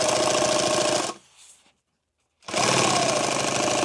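A sewing machine runs loud and close along the edge of a rifle magazine pouch with a fast, steady stitching drone. It stops briefly, falls silent, then starts up again at full speed.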